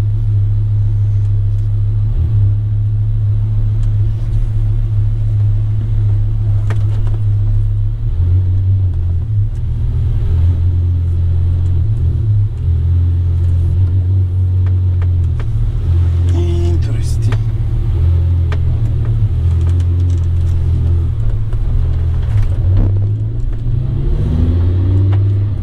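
An Audi R8 V10 first-generation car on a test drive after an engine replacement, its engine rumbling and revving steadily with shifts in pitch, heard from inside the cabin alongside talk.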